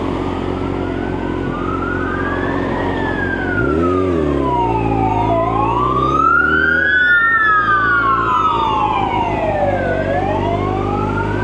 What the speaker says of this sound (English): it could be the ambulance they took someone.